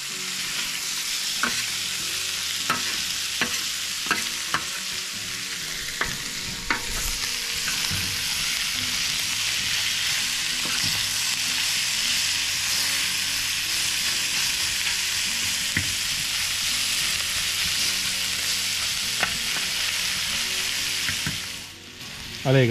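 Chopped garlic sizzles loudly in a hot pan while being stirred for arroz carreteiro, with steady frying hiss and scattered scraping clicks of the spoon throughout, close and continuous without speech.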